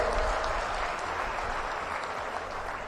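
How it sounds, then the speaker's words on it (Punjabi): A crowd at a political rally claps steadily, a dense, even wash of applause that stays at a consistent level for a few seconds without pause. "ਤਾੜੀ ਮਾਰ ਕੇ ਸਾਡੀ ਟੀਮ ਦਾ ਹੌਸਲਾ ਵਧਾ ਦਿਓ"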